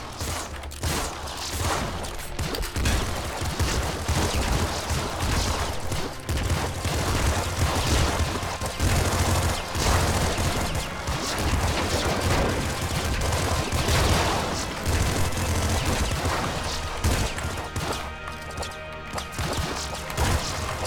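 Splinter pistol fire in the video game Nuclear Throne, dense bursts of rapid shots and crunchy impacts layered over game music, continuous and fairly loud for the whole stretch.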